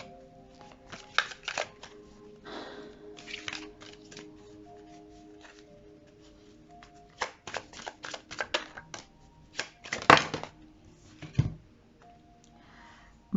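Tarot cards are shuffled by hand in a quiet room, with clusters of quick flicking riffles and soft slaps coming in irregular bursts, close and fairly faint.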